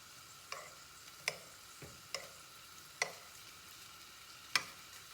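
About 25 peeled shrimp fry in a hot pan with a steady, quiet sizzle, broken by a few sharp clicks and scrapes as pieces are flipped over.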